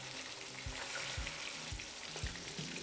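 Pieces of katla fish frying in hot oil in batches, giving a dense, continuous sizzle close by with soft, regular low thumps roughly every half second.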